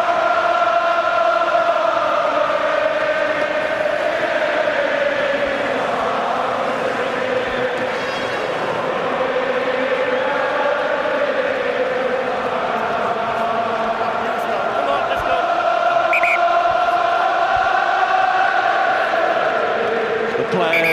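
Munster rugby supporters at the Heineken Cup final fill the stadium with a steady, loud roar and chanting that never lets up, with a commentator talking over it.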